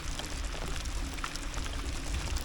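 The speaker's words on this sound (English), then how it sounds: "It's starting to rain a little bit." Rain falling outdoors around a fishing boat during a bass trip, a dense, steady patter of drops across the surface filling the whole span.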